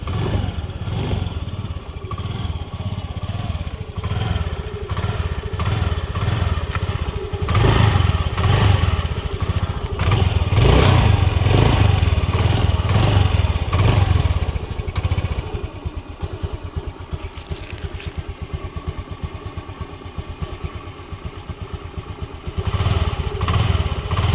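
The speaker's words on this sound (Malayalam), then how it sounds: "നമുക്കിനി ഈ വണ്ടി ഒന്ന് ഓടിച്ചു നോക്കാം നിങ്ങളാ സൗണ്ട് ഒന്ന് കേട്ടോക്കണേ എഞ്ചിൻ്റെ സൗണ്ട് ഒന്ന് കേട്ടോക്കാം" A 2016 Honda Activa scooter engine runs close by, a steady putter rising to louder revs and easing back to a fluttering idle, with light rattles and wind over the microphone.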